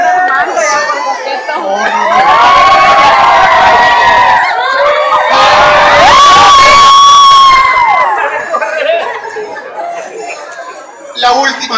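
A large crowd shouts and cheers loudly at a live event, with excited children's voices mixed in; the roar builds, peaks in the middle and stays dense and sustained for the whole stretch before easing slightly near the end.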